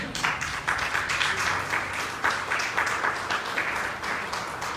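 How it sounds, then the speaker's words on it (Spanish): A crowd applauding steadily, dense overlapping claps sustained throughout with slight swells, fairly close and moderately loud. "Denle otro aplauso al Señor."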